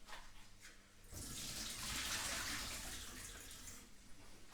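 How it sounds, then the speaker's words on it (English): Water from boiled potatoes gushes and splashes steadily into a sink as they are drained, after a short quiet start, a loud continuous pour that gradually tapers. "Just drain these off, well, get the water out of them"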